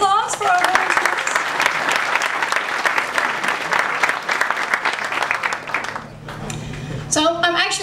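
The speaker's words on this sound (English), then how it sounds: "another round of applause for our volunteers." Conference audience at a computer science unconference gives a sustained round of applause for the volunteers, a dense loud clatter of many hands that dips near the end before voices and renewed sound return.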